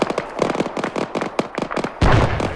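Artillery fire mission impacts in the video game Arma 3, a rapid string of sharp cracking blasts and pops, closely spaced and loud, ending in a heavier rumbling burst.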